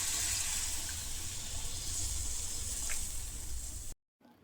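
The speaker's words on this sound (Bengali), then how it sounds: "জল দিয়ে দিলাম" Water pours in a steady, hissing stream into a pot of mutton curry for about four seconds, close and fairly loud, then cuts off abruptly.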